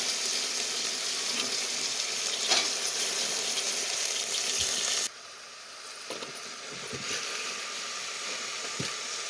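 Black-eyed peas fry in a pan with a loud, dense hiss that drops suddenly to a softer, crackling sizzle partway through, with scattered pops and no talk.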